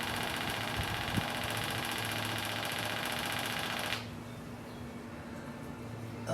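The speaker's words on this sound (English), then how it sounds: "I think that means it's working because the pump got quieter" A fuel pump running during a 1965 VW Beetle restoration, a steady close mechanical buzz with a rapid ticking pulse that drops noticeably quieter about two-thirds through, with no talk.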